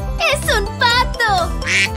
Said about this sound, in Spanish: ¡Es un pato!